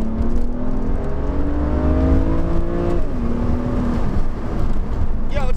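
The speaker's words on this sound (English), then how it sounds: "So let's give it a little acceleration here." A 2009 BMW Z4 sDrive30i (E89) accelerates from inside the car, its engine note climbing steadily in pitch, then dropping back after a gear change, over constant road roar.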